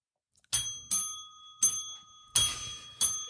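A bright metallic bell is struck about five times at uneven intervals, each ring sustaining with a clear tone before the next, close and fairly loud.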